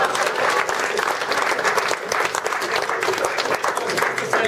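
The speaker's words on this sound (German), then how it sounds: "Ein riesen Applaus" Audience applause at a year-end celebration, dense and continuous clapping from a crowd that stays loud and even throughout, with faint voices blended in.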